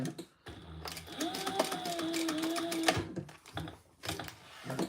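A sewing machine stitching a crossbody bag, its rapid mechanical clatter running in short bursts with a faint tonal whine, close and fairly quiet.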